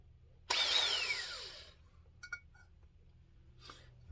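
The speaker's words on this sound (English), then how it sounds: "I want to drill." A power drill bores into the muffler of a CS-590 Timber Wolf chainsaw, one loud whining burst with a falling pitch that stops abruptly, followed by a few faint metallic clinks and taps.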